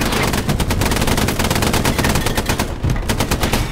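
A machine gun in Hell Let Loose fires a sustained, loud, close automatic burst, a rapid even rattle of shots running without a break for several seconds.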